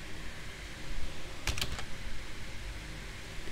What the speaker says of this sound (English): Then I am going to type the banner text here.